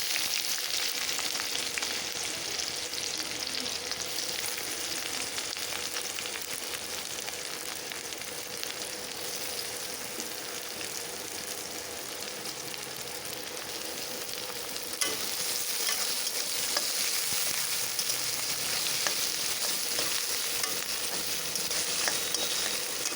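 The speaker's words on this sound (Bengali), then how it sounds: "এগুলি ভাজা ভাজা হতে হতে আমি এখন তার মধ্যে অ্যাড করে দেব আমার পেঁয়াজ কুচি" Whole spices and chopped onion fry steadily in hot oil for chana dal, a dense, even sizzle and crackle that runs close and loud for the full length with no talking.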